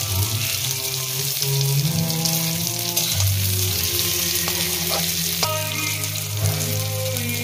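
Masoor lentil fritters frying in hot oil in a pan, giving a continuous close sizzle with bubbling crackles and occasional sharper pops, no speech.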